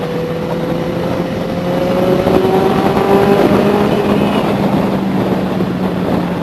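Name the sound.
Benelli 600i motorcycle exhaust revving in a tunnel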